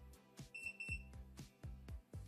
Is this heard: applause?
no